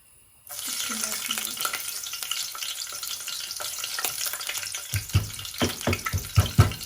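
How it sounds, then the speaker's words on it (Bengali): Fish sizzles loudly in hot oil in a pan for a Sylheti ginger-lemon curry, a steady close crackling hiss that starts abruptly and continues throughout, with scraping and stirring knocks toward the end. "আর এটা তো আসলে বড় মাছ, একটু তেল দিব আমি।"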